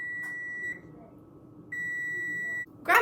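An oven timer beeps in a home kitchen while chocolate chip cookies bake: two sustained electronic tones, separated by a quiet pause, clear and close, with a brief noisy clatter at the end.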